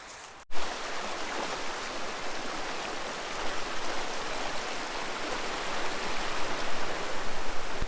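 River water rushes in a steady broadband roar, close and loud after a brief bump at the start, growing slightly stronger toward the end.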